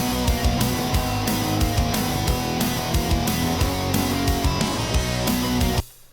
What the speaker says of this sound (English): Let's start with open hi-hats.